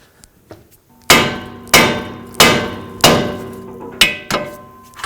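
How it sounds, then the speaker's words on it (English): Six loud metallic hammer blows ring out on the steel steering knuckle of a 2006-2011 Chevrolet HHR, each strike clanging and decaying, spaced about a second apart after a few faint taps. "And with a hammer right there. That's going to break this free from the knuckle."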